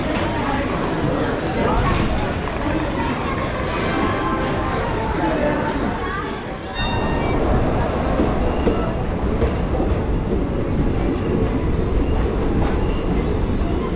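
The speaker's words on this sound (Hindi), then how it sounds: "हमारी ट्रेन खुल चुकी है यहाँ से" Budhpurnima Express 14224 running from Varanasi toward Rajgir on a night journey, heard from inside a sleeper class coach: a steady, loud rumble of wheels and carriage noise throughout, with talk over it.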